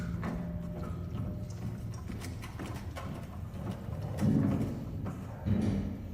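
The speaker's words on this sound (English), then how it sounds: "They're probably underneath you and they hear the footsteps." Footsteps in the video game Detroit: Become Human, a series of soft irregular thuds and clip-clop taps over a low ambient hum, with two heavier, louder steps near the end.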